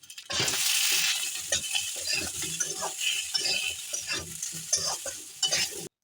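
Spices sizzle steadily in hot oil in a pan with ginger, asafoetida and coriander powder while a spoon stirs and scrapes with repeated clinks and rattles. The sound is close and continuous, with no talking.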